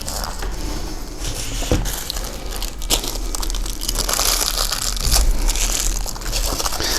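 Small foil balloon squares are pushed one by one into a festive wreath, making close crinkling, rustling crunches in uneven bursts with occasional firmer pushes and no voices.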